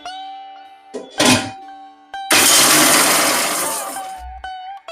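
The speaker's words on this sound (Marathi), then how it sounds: "याला आपण मिक्सरमधून बारीक करून घेऊया" A mixer grinder coarsely grinds sesame seeds, cumin and garlic cloves in two loud whirring bursts: a short one, then a longer run of about two seconds, with quieter tonal background between.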